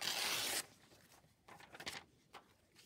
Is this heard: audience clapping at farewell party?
no